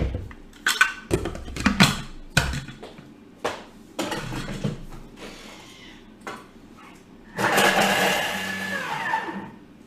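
A kitchen blender blitzes onion, garlic and ginger for satay. Scattered clatter and knocks from handling the jar come first, then a loud, rough whirring burst of blending that lasts about two seconds before stopping.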